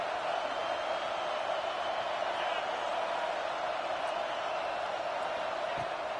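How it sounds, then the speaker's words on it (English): Home crowd roar inside a college football stadium in the video game NCAA 26, a steady, dense wash of cheering that holds at constant loudness throughout without clear peaks. "Man, this crowd really affecting the football game."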